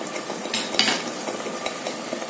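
Masala for Kanpur-style beef nihari is stirred and fried in a pan, with a continuous soft sizzle broken by scraping spoon strokes and light clinks, close and steady throughout.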